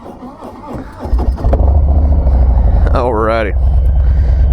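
A 2019 Harley-Davidson FXDR Softail motorcycle starts with a brief crank, then settles into a loud, close, rumbling idle while someone speaks over it at the start and end.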